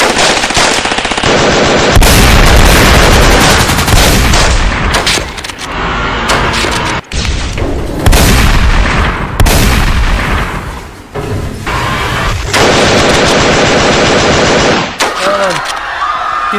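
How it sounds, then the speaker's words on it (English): Heavy gunfire in an animated web series battle, loud sustained machine-gun bursts and booms filling the scene, with shouted voices breaking through. "Open fire! Kill everything!"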